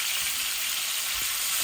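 Tilapia fish coated in salt and turmeric fries in hot oil, a loud, steady, close hiss of sizzling with faint bubbling pops underneath.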